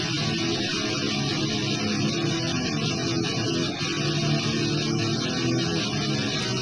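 Heavy distorted electric guitar tones from a Pod HD Pro X, a dense, loud, sustained wall of chugging rhythm playing with no gaps.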